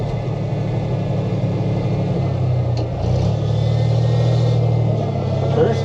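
An old Jeep's engine rumbles steadily as it climbs a driveway, a loud low drone with pitch shifting as it labors and revs slightly, close up, with faint talk inside.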